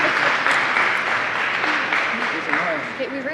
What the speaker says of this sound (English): the people clapping